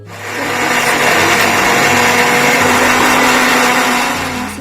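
Mixer grinder whirring loudly and continuously as it grinds a paste for paneer tikka masala, a steady close motor drone that spins up at the start and runs without a break.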